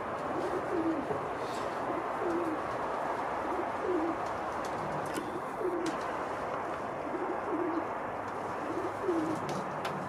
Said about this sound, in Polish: to są gołębie z takiego, powiedzmy, pierwszego lęgu, Janku, co?